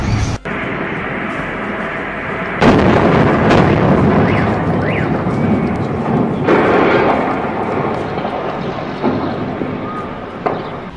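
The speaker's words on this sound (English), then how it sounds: "a devastating gas explosion occurred at a 5-story residential building in" A gas explosion at a five-story residential building in Novosibirsk, Russia, hits with a sudden loud blast, then a heavy, sustained rumbling roar that slowly fades.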